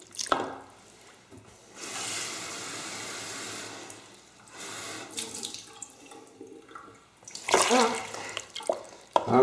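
Water splashes and trickles into planting soil for a fairy garden in bursts, with quiet pauses between pours, close by and faint overall.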